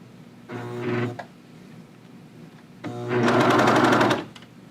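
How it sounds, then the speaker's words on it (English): A serger sewing machine stitches a jogger cuff onto a pant leg and trims a quarter inch as it sews, running in two bursts: a short whir, a pause, then a longer, louder rapid hum. "serging off that 1/4 of an inch as you sew"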